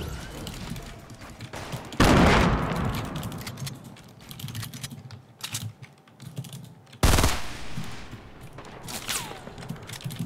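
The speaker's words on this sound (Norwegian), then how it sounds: "Oi, de skyter, de skyter." Video game battle gunfire erupts in sharp bursts, with two loud volleys and scattered shots between them, mixed with clicking keys and faint talk from players.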